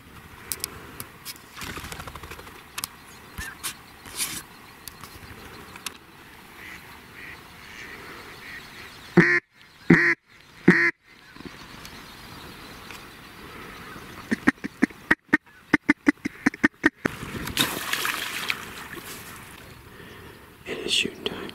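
Mallard ducks quack near a hole in the ice, repeated calls rising over quiet whispered talk, with a few sharp bursts standing out.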